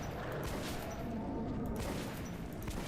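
Muffled, steady gunfire and explosions from a first-person shooter video game run underneath constant background noise, with no distinct individual shots standing out.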